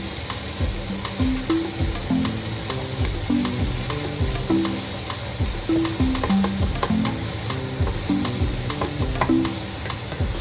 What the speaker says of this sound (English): And stir until golden brown.